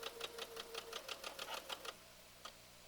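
A sewing machine chain-sews quilt blocks in a quick run of rhythmic needle stitches that stops partway, followed by one last brief stitch, close and moderately quiet with no talking.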